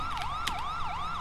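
A wailing emergency vehicle siren in a video game sweeps up and down in a fast, regular cycle, loud and close, with a few sharp clicks over it and no speech.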